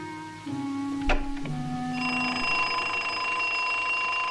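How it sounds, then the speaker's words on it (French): An electronic alarm in a 1969 film rings with a steady, loud tone that shifts pitch early on and then holds a sustained ringing like an alarm clock. "l'alarme, elle a quand même une sonnerie de réveil"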